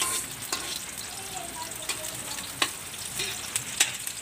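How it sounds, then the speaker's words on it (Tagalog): Onions fry in a pan for pansit bato, a steady hiss of sizzling oil with occasional scrapes and taps of a utensil stirring. "Nilagay na rin ni Mama ang sibuyas."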